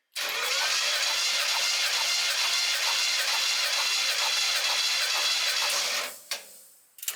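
An engine cranking over on the starter with the throttle held wide open, a loud, continuous rhythmic churning for about six seconds before it cuts off, followed by a couple of faint clicks.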